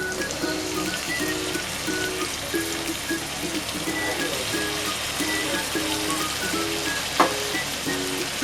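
Boiled button mushrooms go into hot frying masala for a mushroom do pyaza, giving a steady, close sizzle that continues without a break the whole time.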